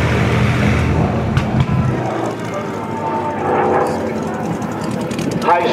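Spitfire Mk XVIII piston fighter making a high-speed pass at over 400 mph, its engine roar loud and sweeping, heard under steady commentary from an announcer.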